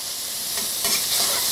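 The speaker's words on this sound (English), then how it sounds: "Now listen to that sizzle." Loud, steady sizzling of food frying in hot oil, a dense continuous hiss with a few brief stirring swells.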